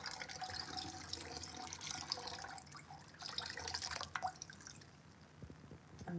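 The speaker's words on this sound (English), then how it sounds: "I have the half a teaspoon of animal rennet and like half a cup of water. And I'm gonna pour it in." Animal rennet mixed with water being poured into raw cow milk while making mozzarella, a soft continuous trickling and splashing of liquid with a few drips near the end, quiet and close with no talking.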